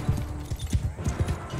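A horse gallops in Mount & Blade 2: Bannerlord, its hooves pounding in a quick, rolling rhythm of close, muffled thuds throughout.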